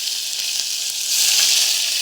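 Ginger and chillies sizzle steadily in hot oil, a bright, continuous crackling hiss that swells a little louder halfway through, with no voices.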